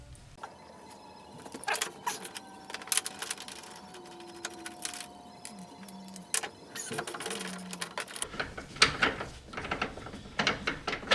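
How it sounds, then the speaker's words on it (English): Metal clicks, ratcheting and light tool handling as 17mm bolts and a nut are removed from an Acura NSX during disassembly for a twin turbo install, a series of close mechanical ticks with brief tonal squeaks and no talking. "Now I can focus on removing the 17mm bolts"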